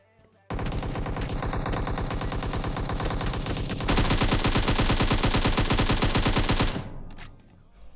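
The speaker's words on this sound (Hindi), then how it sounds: "इतना खतरनाक प्री फायर देता है ये बंदा कि क्या ही बताऊं, सारी की सारी गोली दीवारों पे पेल देता है ये" Long bursts of rapid automatic gunfire in the mobile battle royale game PUBG Mobile hammer out continuously and loudly for about six seconds, growing slightly heavier midway before cutting off.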